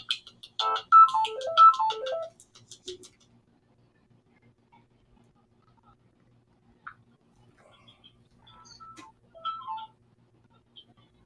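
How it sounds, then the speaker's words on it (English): An incoming phone call to a podcast comes through as an electronic ringtone, playing a bright melodic burst and then a softer repeat after a pause, close and clear with no talk over it. "We got a caller calling in, guys."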